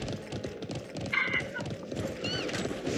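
Horse hooves clip-clop steadily in a video game, a quick rhythmic patter of knocks under a dense wash of game noise, with a short high tonal cry rising briefly over it.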